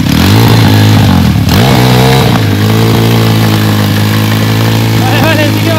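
A motorcycle engine runs on a homemade boat converted from the motorbike, giving a loud, close, continuous droning hum that surges briefly and then settles, with a voice faintly audible over it.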